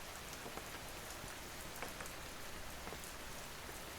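Rain falls steadily on a rainy night as a dense, even wash of patter with faint scattered drops. It stays soft and constant throughout with no voices.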